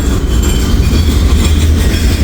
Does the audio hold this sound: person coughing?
no